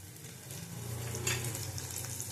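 Small green chillies fry in hot oil in a pan while cooking a posto dish, making a steady close sizzle that swells slightly toward the end, with no voices.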